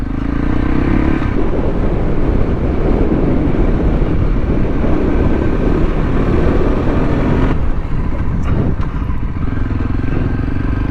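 A Voge 300 Rally motorcycle climbs a short trail, its engine droning loud and close for the whole stretch, with the pitch and load shifting as the bike moves uphill.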